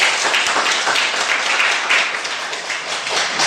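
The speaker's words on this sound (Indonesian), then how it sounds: "Tepuk tangan dulu, Kak." A classroom group applauding together in a dense, steady wash of many hands clapping at once, loud and close, with no break for its short length.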